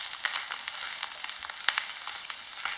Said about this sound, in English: Frying an egg